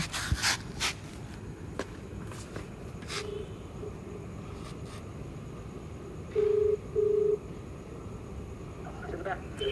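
Over a low, noisy background with a few clicks, a phone line gives two short ringing tones in quick succession, moderately loud.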